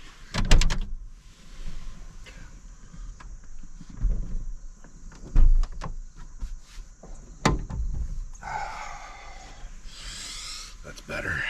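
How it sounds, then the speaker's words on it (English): Camper van doors are worked open, with several heavy clunks and latch knocks spaced a second or two apart, followed by a sliding rumble near the end, all close by and without talk. "we just open these doors."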